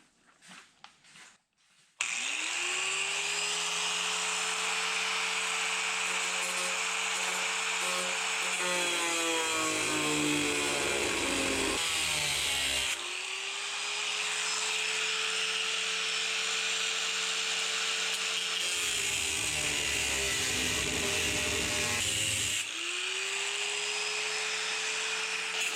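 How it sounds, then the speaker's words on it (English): Angle grinder cutting around the edges of steel truck bed side panels on a 1940s Chevy trailer restoration, loud continuous whine in three long passes with brief pauses, pitch dropping as the disc bites into the metal. "I'm just going to take the grinder and cut around the edges"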